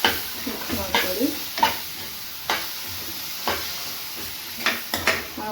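A vangi bath mixture with soaked tamarind is stirred in a frying pan, a spoon scraping in intermittent strokes over a soft steady sizzle, close by with no talking.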